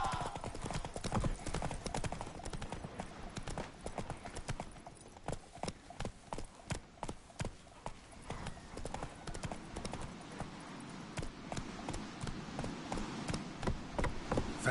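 Horse hooves clip-clop steadily in a video game as the mount is ridden, a fast, regular rhythm of close, crisp strikes over a background of ambient game sound, with occasional snorts.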